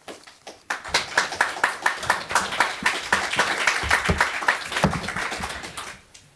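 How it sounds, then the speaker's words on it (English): A forum audience applauds its speakers in Budapest: a few sharp separate claps at first, then a full round of many hands building to a dense, sustained burst that fades out at the end. "join me in applauding our speakers, but you was much faster"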